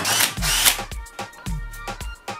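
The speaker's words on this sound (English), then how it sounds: "I'm just going to drill that one out" A power drill bores out a hole in a metal bracket while a vertical clamp is being built, whirring in repeated short bursts with pauses and clicks in between, close by and loud.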